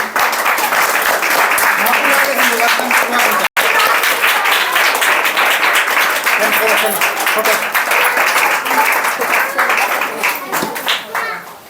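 Loud, continuous clapping fills a church hall during a Christmas felicitation ceremony, a dense crowd-wide applause that holds steady for about ten seconds before tapering slightly, with a voice faintly audible.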